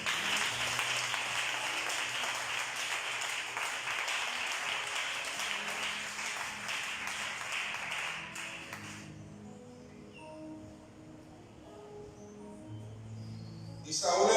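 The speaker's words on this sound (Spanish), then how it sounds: "Dale un aplauso a Dios." A church congregation claps steadily for about nine seconds, moderately close and even, then the clapping stops abruptly and quieter room sound and faint voices follow, with a brief sharp noise at the very end.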